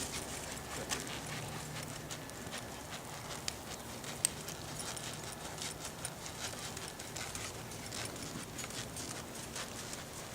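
Horse hooves clip-clop at a walk during a western dressage riding lesson in an arena, a steady run of soft footfalls with a couple of sharper knocks over a broad, constant background hiss.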